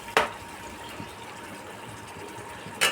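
Rinse water from the spice and coconut bowls poured into a simmering potol malaikari curry, a soft watery pour and bubbling flanked by two sharp clanks of a bowl or utensil.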